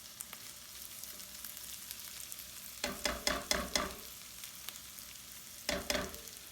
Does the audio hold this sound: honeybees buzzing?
no